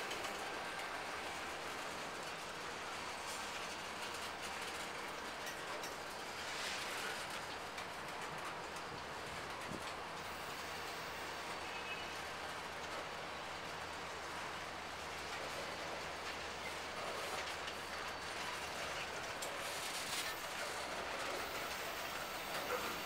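A BNSF freight train rolls past at a distance, giving a steady, faint rumble and rushing noise with soft wheel clatter that stays even throughout, and no voices are heard.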